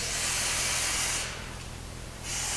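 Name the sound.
spray cleaner sprayed while removing a wheel bearing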